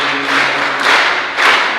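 Church congregation clapping hands together while singing, a steady, close-sounding patter of claps swelling in regular waves across two seconds, with no clear voices standing out.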